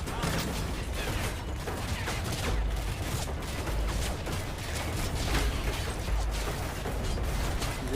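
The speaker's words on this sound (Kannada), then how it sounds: "ಬೇರೆ ಬಿಲ್ಡಿಂಗಿಂದನೇ ಹಾರಿಸ್ತಾರೆ ಬುಲೆಟ್ಗಳನ್ನ" Dense gunfire from the PC shooter Call of Duty MW3 crackles nonstop, rapid shots and mechanical clatter packed into a loud, unbroken barrage with heavy low thumps.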